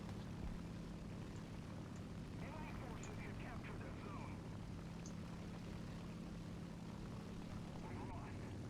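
A propeller fighter plane flying in the War Thunder game, its engine a steady low drone throughout with faint higher chirps and effects scattered over it.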